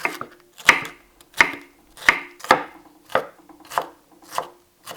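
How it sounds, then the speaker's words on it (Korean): Knife mincing bell pepper on a cutting board for a citron sauce, a series of about nine crisp chopping thuds in an uneven rhythm, close and clear with no talking. "유자 소스에 들어갈 파프리카는 다져준다."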